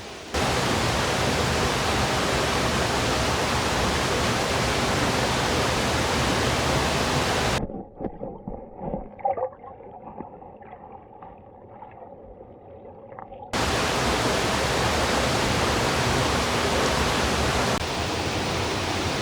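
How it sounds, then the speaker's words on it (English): Rushing water at White Oak Falls, a loud, steady broadband roar. It cuts out abruptly to near quiet for about six seconds midway, then returns just as loud and continues to the end. "The first one comes down from the main waterfall."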